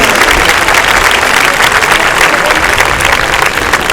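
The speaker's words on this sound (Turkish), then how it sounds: "Alkışlar için." A packed graduation ceremony audience at Istanbul Technical University claps together in loud, dense, sustained applause that fills the hall evenly from start to end.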